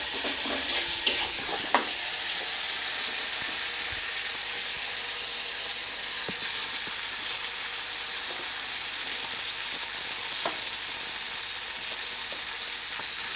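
Egg curry spice paste stir-fried in a pan, a steady close sizzle and frying hiss with occasional stirring scrapes and ladle clicks running throughout, no voices.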